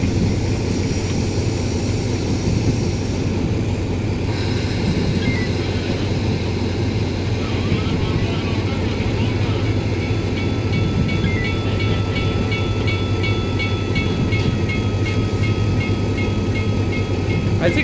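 DE 24000 diesel locomotive from a train simulator game on the Taurus Mountains route, a loud continuous engine drone with steady rumble, rail hum and occasional faint clicks throughout.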